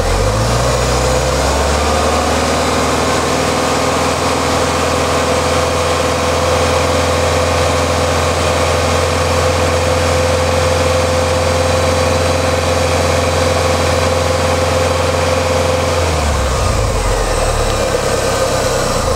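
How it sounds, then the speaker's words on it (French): A Ford Mustang engine holds a steady raised idle around 2000 rpm, loud and constant, with a droning hum that drops back near the end as the revs fall. "Je vais monter les tours à 2000 tours."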